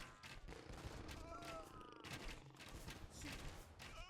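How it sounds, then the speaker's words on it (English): Organ guns firing spread pellet volleys in Age of Empires II, rapid overlapping cracks and thuds in busy bursts amid battle noise, with a voice talking over it. "remember they do shoot 5 pellets or bullets, whatever you want to call it, in a spread"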